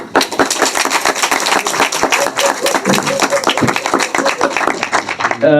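A crowd at the Multichoice athletics awards ceremony applauds, with dense, steady clapping from many hands that stays loud and continuous throughout.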